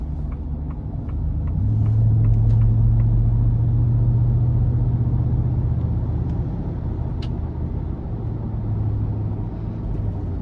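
2023 Ford F-250 Lariat pickup with a 7.3 V8 accelerating in eco mode: a steady low engine drone and road rumble from inside the cab, rising slightly in tone as speed builds.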